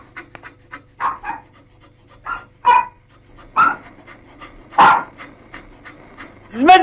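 A dog pants in quick, breathy bursts close by, irregular huffs and gasps with a faint whimpering edge, over a low steady hum in an old film scene.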